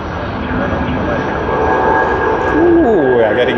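A Batik Air Airbus A330-300 jet departs Sydney Airport for Kuala Lumpur, a loud, broad engine roar that swells steadily toward the end, with a person talking over it.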